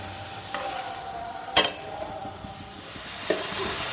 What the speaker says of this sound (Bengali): এবার সব মশলার মধ্যে দিয়ে ভালোভাবে এটাকে কষিয়ে নিচ্ছি